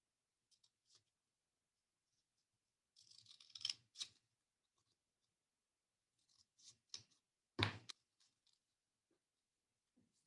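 Paper traced for a spirit lamp shade is cut out with scissors, giving faint, sparse snips and crisp cutting rustles in short bursts separated by quiet pauses.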